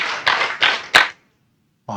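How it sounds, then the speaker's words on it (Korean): An audience in a Korean church lecture hall claps four times in unison, four sharp loud collective claps in steady rhythm, then a brief silence before a voice begins. "박수 4번 시작!"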